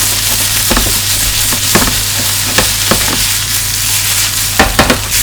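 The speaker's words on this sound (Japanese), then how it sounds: "まずはフライパンにごま油敷いて野菜炒めていきましょう" Carrot, cabbage and green pepper sizzle in sesame oil in a frying pan, a steady close hiss broken by sharp scraping clicks of stirring, with no talk.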